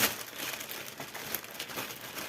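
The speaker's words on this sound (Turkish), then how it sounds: "Hemen başka bir Watsons poşetimizi açalım." A Watsons plastic shopping bag being opened, with steady crinkling and rustling of thin plastic close by, running continuously with small bursts of louder crackle.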